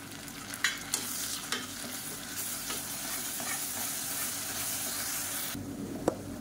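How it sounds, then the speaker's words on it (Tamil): Ginger garlic paste with ground spices frying and sizzling in a pan for a crab (nandu) fry, a steady hiss with a few clinks of stirring, alone without talk. "இஞ்சி பூண்டு பேஸ்ட்டெல்லாம் நல்லா வதங்கி நல்ல ஒரு ஃப்ளேவர் வருது"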